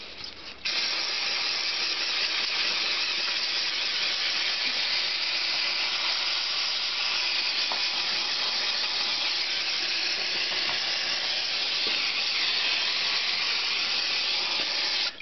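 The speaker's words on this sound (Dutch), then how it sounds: "pakken we even de remreiniger" Brake cleaner hisses in a continuous steady spray onto the engine block of a Honda GL500 Silverwing motorcycle, loud and close, lasting nearly the whole stretch with slight pulses.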